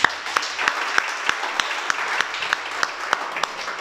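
Applause from a church audience, a modest crowd clapping with a few distinct claps popping out in a regular beat over a softer wash of hands, moderately near.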